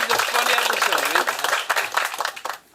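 Applause and clapping from a podcast crew, a dense broadband patter of hands across the whole stretch, with voices talking over it before it trails off at the end.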